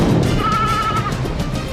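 A single sheep bleats once in a sustained, wavering cry over a busy, noisy background that runs through the whole short stretch.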